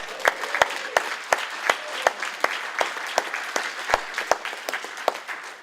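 An audience applauds at a presentation on labor and organizing, with sustained, steady clapping from a room full of people and no voices over it.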